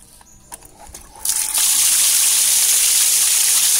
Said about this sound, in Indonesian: Airnya sangat deras, semburannya sangat deras sekali.